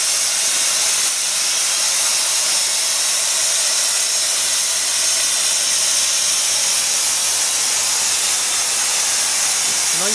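Loud, steady hiss of liquid nitrogen being pumped from a vehicle-mounted cylinder, a constant rushing spray that continues unbroken for the whole stretch.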